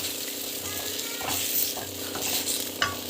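Tamarind water with spices cooking in a pan for a mixed-vegetable dish, giving a steady close sizzle and bubbling hiss throughout with a few small stirring clinks, no voices.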